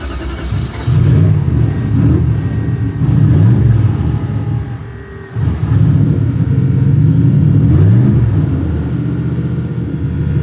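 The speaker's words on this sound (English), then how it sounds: "So let's fire it up and I'll show you how it works." A turbocharged LS V8 engine starts and rumbles loudly at close range, revving up and settling back in repeated swells, with a brief dip midway before climbing again.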